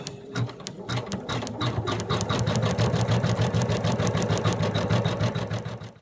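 An embroidery machine stitches a name onto toweling topped with wash-away stabilizer, producing a rapid, even mechanical clatter of needle strikes over a low motor hum, close and continuous for several seconds before slowing at the end.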